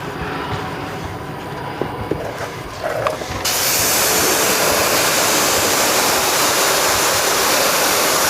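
P&S Brake Buster wheel cleaner sprayed onto dirty rims of a Mercedes C450 AMG, a few faint bursts giving way to a loud, steady broadband spray hiss that runs on without pause.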